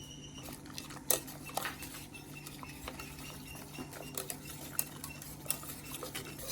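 A spoon stirs a pudding mixture thickened with cornflour in a pot, giving soft scraping and scattered sharp clinks and taps against the metal, close and quiet, with no talk.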